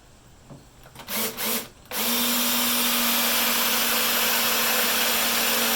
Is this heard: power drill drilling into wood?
yes